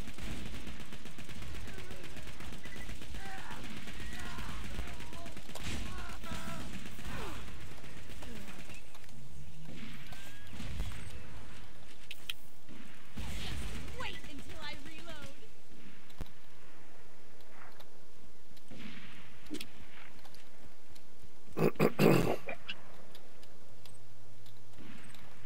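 Gunfire in the video game Borderlands 2: a short, loud cluster of shots near the end stands out over busy game ambience, with voices talking at times.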